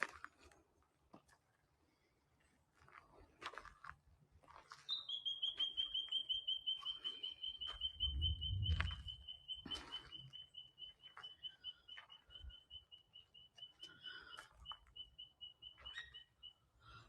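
A thin, steady high-pitched bird call trills on for several seconds in a quiet forest, with faint rustles and a soft low rumble beneath.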